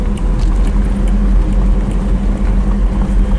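An unrestored 1977 Pontiac Trans Am rolls slowly along a gravel road, giving a steady, loud low rumble of engine and road noise that continues without a break, with no talking.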